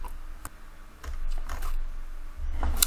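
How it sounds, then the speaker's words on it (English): Typing on a computer keyboard, a few sparse close key clicks and taps in quiet surroundings over about three seconds. "So if I now type in Zanet Design into Google"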